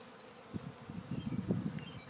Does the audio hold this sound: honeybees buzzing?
yes